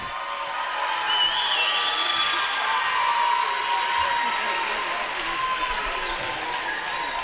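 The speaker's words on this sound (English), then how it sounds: "As the Sunset crowd makes a little noise for their squad." A crowd at a boys' basketball championship game makes a steady, moderate wash of cheering and noise, continuous throughout with a voice talking over it.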